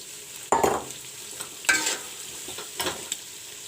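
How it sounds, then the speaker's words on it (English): Soya chunks and fried potatoes fry together in a pan, a low sizzle overlaid by three or four distinct stirring scrapes and clatters of a spoon, close and fairly loud. "The soya chunks are fried up a bit. Now I will put in the fried potatoes."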